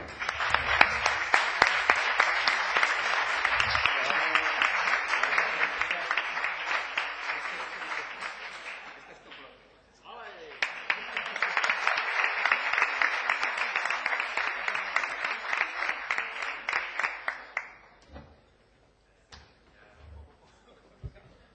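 A lecture audience applauds a prize winner in two strong waves of dense clapping, separated by a brief dip. The clapping then fades out, and a few scattered claps and soft sounds are left at the end.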